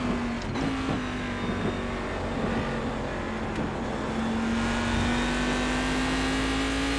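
A race car engine in iRacing at Watkins Glen International holds a loud steady drone, its pitch sagging then climbing again as the throttle comes back on, with faint tire and road noise beneath.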